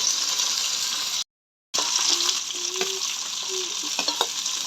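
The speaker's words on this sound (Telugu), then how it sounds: "ఉల్లిపాయ పచ్చిమిరకాయ వేసి ఇంకా అవ్వలేదు అయిపోయింది కొంచెం ఫ్రై అయితే చాలు" Chopped onion and green chilli sizzle and crackle in a hot pan, a steady frying hiss broken by a brief silent gap and a few scraping stirs of a spoon near the end.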